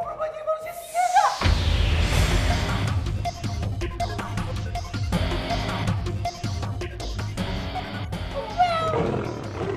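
A lion roars in a dramatic TV series scene, with a loud, rumbling roar opening over a whooshing rise, followed by growls and music-like hits.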